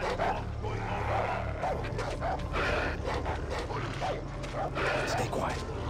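Dogs bark and yip in Far Cry 3, several barks over steady game ambience and a talking voice.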